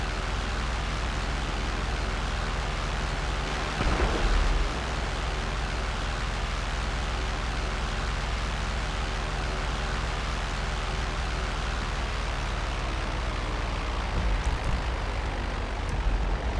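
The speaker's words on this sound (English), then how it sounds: "I hear jet engines." Steady, continuous roar of jet aircraft engines in the online video game GTA Online, a broad rushing drone held at even loudness throughout with no talking.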